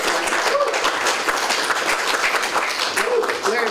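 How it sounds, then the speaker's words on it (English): Applause from an audience at a law school gathering greets a speaker's introduction, a full, loud, continuous patter of many hands that holds steady with faint crowd voices mixed in. "Everybody give him a round of applause."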